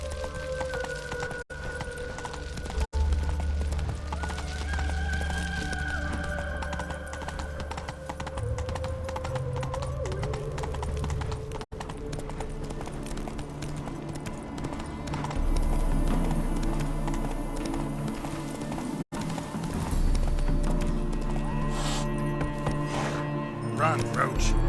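Hooves of Roach, the horse in The Witcher 3: Wild Hunt, clip-clop at a steady galloping pace, running continuously under a dense game soundtrack with music and voices talking throughout.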